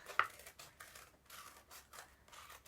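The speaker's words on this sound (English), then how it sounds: "Now to cut it out, you're going to have to fold that circle lightly in half and snip the middle" Paper circle being cut with scissors, a series of soft crisp snips and scrapes at close range, several short bursts spread across a few seconds with quiet pauses between.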